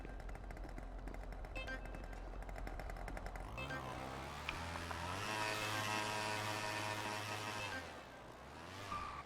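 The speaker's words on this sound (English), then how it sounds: "Anybody else hearing a scooter rev incessantly?" A scooter engine in a video game revs up and holds a buzzing, rising whine before easing back down, fairly close and loud, following a stretch of busier game noise, with no voices.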